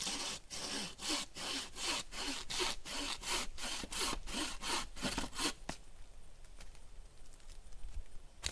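Hand saw cutting through rotten wood at a camp site, with steady rhythmic back-and-forth strokes, close and loud, before the sawing stops and leaves quieter outdoor rustling.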